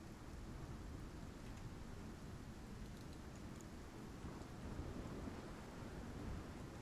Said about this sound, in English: The storm is coming down pretty hard.